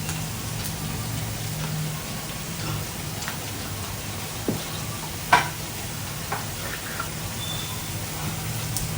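Red chili powder added to onions frying in a pan and stirred, a steady close sizzle with occasional spoon scrapes and small taps against the pan.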